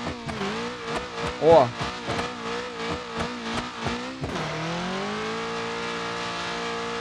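A Passat turbo engine in BeamNG.drive strains and revs upward while towing a van, its loud rising whine surging, dropping after a shift and climbing again, with brief voice interjections over it.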